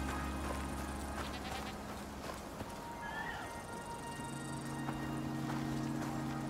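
Animal calls and hoof sounds in the arctic setting of the survival game Icarus, a goat among them, over a steady ambient hum of game sound, with no one speaking.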